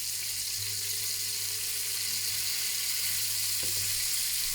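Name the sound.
steak sizzling in a frying pan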